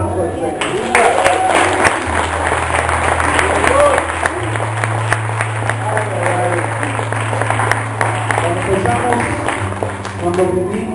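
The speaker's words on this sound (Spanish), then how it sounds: "No le das un aplauso al Señor." A church congregation breaks into sustained applause, crowded clapping that runs throughout over a steady low instrumental hum, with voices talking and calling out beneath it.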